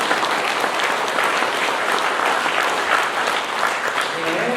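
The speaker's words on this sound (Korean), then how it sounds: "미리 박수" Dense, continuous applause from a parish congregation at an Easter Sunday Mass, loud and even throughout with no break.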